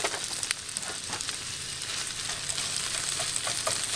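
Potatoes frying in bacon grease in a skillet, a steady close hiss and crackle of sizzling fat with occasional pops, continuous and even throughout.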